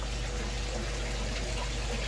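Water pours steadily out of a DIY moving bed filter into a garden pond, a continuous loud rushing splash with no break.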